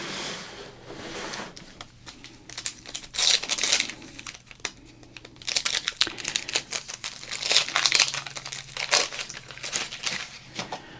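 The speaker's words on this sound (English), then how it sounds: "open up 34 packs of baseball cards" Packs of 1991 Donruss baseball cards are torn open and crinkled up close, irregular bursts of foil crackling and ripping that swell and fade, with no speech.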